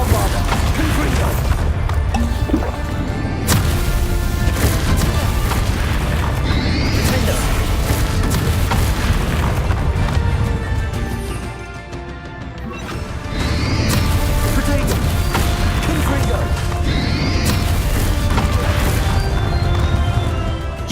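Bombarda and Confringo explosion spells from Hogwarts Legacy, dense loud blasts and crashing impacts layered under game music, with a brief dip before the barrage resumes.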